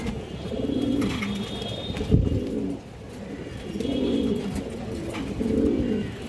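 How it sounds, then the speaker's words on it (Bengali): Pigeons at a pigeon sale coo in low, throaty rolling bursts, several repeated phrases close by, with a sharp knock partway through. "তো একটা বিগ সাইজের নর কবুতর আছে"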